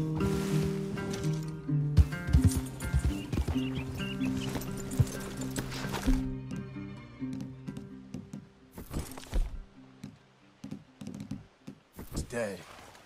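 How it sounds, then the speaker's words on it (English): Horses in the video game Red Dead Redemption 2 move among trees, their hoof clops and a whinny mixed with game music and talk. "leave the horses in the trees there."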